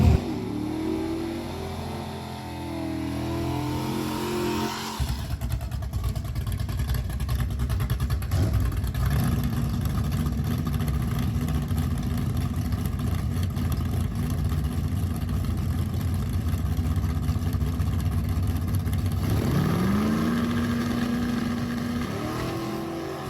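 Drag racing car on a bracket race first round at a Friday night event, engine idling then roaring hard at full throttle for a long sustained run, loud and steady before easing off near the end.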